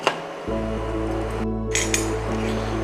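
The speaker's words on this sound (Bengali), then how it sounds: "ঢাকনা দিয়ে দিলাম" A lid set onto a cooking pot of simmering katla fish, a brief metallic clink followed by another light clatter over a steady low cooking hum.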